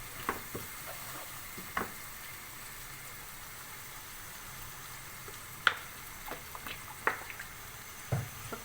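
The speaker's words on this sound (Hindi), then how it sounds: "अच्छी तरह हमारा मसाला फ्राई हो जाए।" Spice masala fries in about half a cup of oil for an egg curry, making a soft, steady sizzle with scattered small ticks and spatters from the pan, quiet and without talk.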